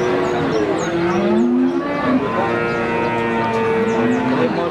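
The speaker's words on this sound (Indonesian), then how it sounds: "Sapi-sapi bakalan dari pasar sapi Wagenan." Several cattle moo loudly and repeatedly at the Wagenan cattle market, long drawn-out lowing calls overlapping amid busy market background noise.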